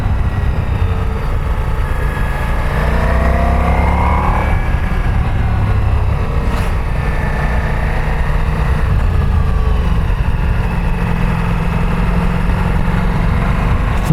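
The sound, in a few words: Ducati Multistrada V4S motorcycle engine accelerating in gear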